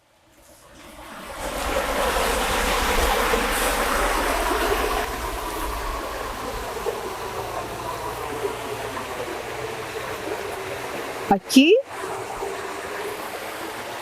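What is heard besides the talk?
flowing water at irrigation intakes of Huasco river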